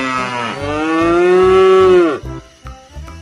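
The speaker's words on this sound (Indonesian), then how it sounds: "Lari John, ngamuk tuh sapinya" Agitated cow lowing once in a long, loud, drawn-out moo that rises and then breaks off, followed by a few faint knocks and shuffles.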